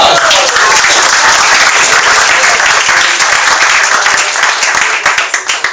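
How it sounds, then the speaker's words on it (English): Loud, sustained applause from an audience at a Successful Thinkers club meeting in Foster City, dense close clapping throughout that begins to thin and taper off near the end. "Give yourself a big round of applause."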